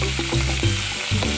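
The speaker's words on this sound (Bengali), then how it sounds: "ফুলকপিগুলো এবার ছেড়ে দিলাম কড়াইয়ে" Cauliflower florets drop into hot oil in a wok, raising a steady close sizzle with a few soft knocks and shifts as the pieces settle, no voices.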